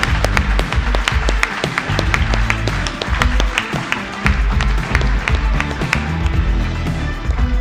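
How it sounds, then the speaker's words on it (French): An audience at a business awards ceremony applauds a trophy winner, dense and loud clapping filling the whole stretch without a break. "Voilà, qu'on applaudit très très fort."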